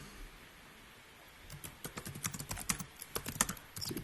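Typing on a computer keyboard, quiet at first, then a rapid, uneven run of close, soft key clicks and taps that continues to the end.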